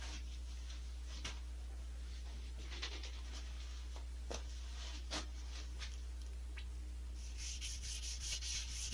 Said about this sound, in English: maybe I can sand some of that out.